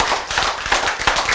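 A congregation claps during a church sermon: a burst of many hands with sharp, uneven slaps layered into a dense, lively patter, fairly close and loud.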